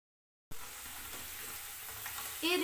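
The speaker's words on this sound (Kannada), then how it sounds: "ಒಂದು ಸ್ಪೂನಿಂದ ಈ ಥರ ತಿರುವಾಕೊಳ್ಳಿ." Honey chilli potatoes fry in a pan while a spoon turns them, a faint, even sizzle starting abruptly after brief silence, with a light scrape toward the end.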